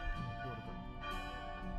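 Bell of the Catholic Motomachi Church in Hakodate, Japan, sustained ringing tones that hang and overlap in a steady, moderately loud wash against faint background sound.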